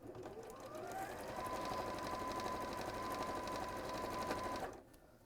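A sewing machine runs a quarter-inch seam in one continuous, steady burst lasting about four seconds, close and clear, then stops abruptly near the end.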